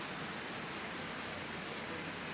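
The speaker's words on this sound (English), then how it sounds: "And right on cue is the rain." Steady, dense rain falls at EPCOT in Walt Disney World during a wet, stormy day, a constant hiss of drops hitting surfaces with no voices.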